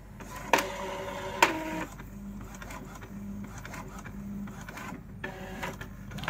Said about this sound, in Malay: Printer dah mula print.